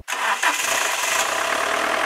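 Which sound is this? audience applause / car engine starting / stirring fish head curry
car engine starting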